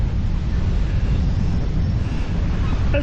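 Strong wind blasts across the microphone on the Brighton seafront cycle path, a steady, loud low roar with no breaks that covers the whole stretch.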